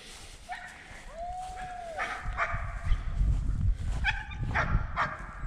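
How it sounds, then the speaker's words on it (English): A dog barks and yips several times in short bursts at goats on a homestead, amid outdoor rustling and low wind noise, fairly close. "She's barking."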